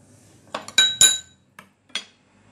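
Spoon clinking against a glass or metal bowl while stirring six spices, turmeric and cinnamon, into noumam sauce, a few sharp chinks in a short, irregular burst, close and alone.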